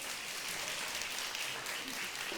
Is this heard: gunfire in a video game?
no